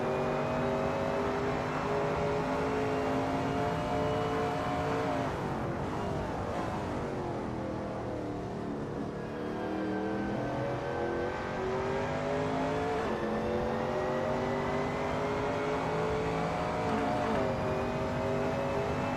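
A Shelby Cobra 351 race car in a racing game at Donington Park, engine roaring continuously through Coppice, revs dipping around a corner before climbing again, loud and close with no talk.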